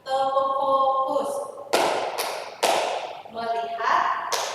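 A group claps a rhythmic pattern together in a room, sharp bursts of clapping broken by short pauses, with talking heard between the bursts.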